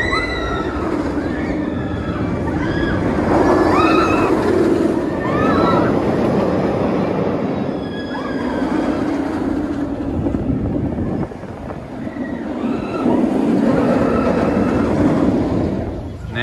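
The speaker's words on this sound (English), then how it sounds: "Second ride on Nemesis Inferno." The Nemesis Inferno roller coaster at Thorpe Park gives a loud, sustained rumble of the train on its track, with riders screaming throughout and the roar dipping briefly before surging again.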